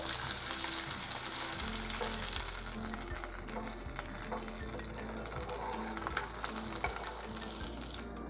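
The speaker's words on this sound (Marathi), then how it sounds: "परत आता आपण या साईडने दोन मिनिटं फ्राय करून घेऊया" Tandoori-marinated pomfret fish fries in a pan over medium heat, a steady close sizzle and crackle with faint clinks of handling throughout.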